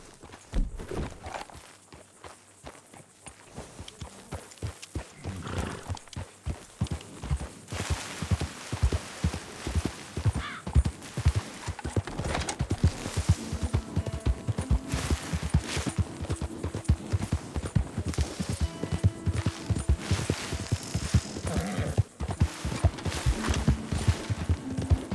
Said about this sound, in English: That's a real beaut of a horse.